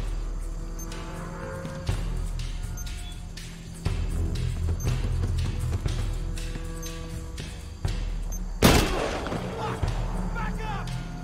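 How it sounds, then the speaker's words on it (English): A single sharp, loud blast from an explosion in the video game Shadow of the Tomb Raider bursts out near the end, over a steady game soundscape of ambient rumble and scattered thumps and impacts. "I heard it's an explosion."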